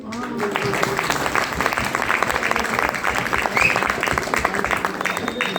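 An audience claps steadily in a dense, even wash that holds at the same level for several seconds.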